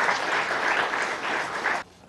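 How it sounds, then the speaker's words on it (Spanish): A large audience claps warmly for the state of Anzoátegui during a broadcast presidential program, with thick, sustained applause that is cut off abruptly near the end. "vamos a darle un aplauso al estado de Anzuategui"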